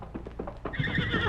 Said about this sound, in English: Did you hear that horse, Kima?